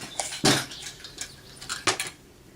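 A lid is pushed onto a homemade candle container. Two sharp, close clacks stand out among lighter rattling knocks, with no talk.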